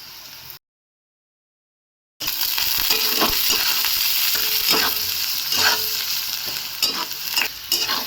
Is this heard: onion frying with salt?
yes